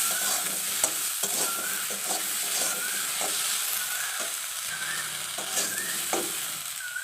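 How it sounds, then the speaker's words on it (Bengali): A spoon stirs drumstick curry in a pan with mustard paste, salt and turmeric, giving repeated scraping strokes over a steady, close sizzle and faint hiss. "এখন ভালো করে নেড়ে নিচ্ছি"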